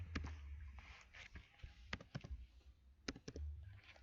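Command being typed on a computer keyboard during Debian 10 server configuration: scattered, uneven key clicks in short bursts over a low steady hum, close and fairly quiet.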